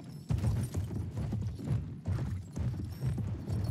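Horse hooves gallop in Battlefield 1, a steady rhythmic clip-clop of repeated low thuds running throughout at close range, with faint game ambience and no talk.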